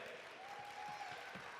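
Steady applause from an audience at a Diwali celebration gathering, a dense continuous clapping wash filling the room for under two seconds at moderate level.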